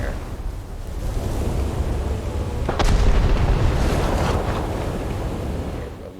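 Guns of the Japanese heavy cruiser IJN Kako fire during a naval battle in War Thunder, a deep broadband boom rising out of a steady roar of wind and sea spray.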